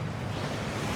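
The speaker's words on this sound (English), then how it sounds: "That waterfall washes away all enchantments." A waterfall in the video game Hogwarts Legacy gives a steady, even rushing roar, moderately loud and unbroken, with no voices.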